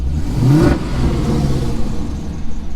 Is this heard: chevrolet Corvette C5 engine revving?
yes